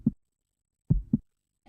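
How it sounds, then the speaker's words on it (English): Low-health heartbeat effect from the video game Eternal Darkness, deep muffled thumps in isolation: a single beat, then a close double beat, spaced by near silence. "In the case of health, you also start hearing a heart beating sound that will get faster and"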